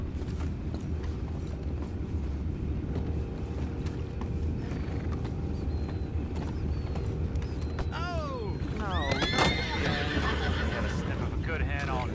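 Horses in the Red Dead Redemption 2 video game shuffle and snort over a low rumbling background, then one neighs loudly near the end with a second whinny close behind, creaks and mechanical clatter mixed in.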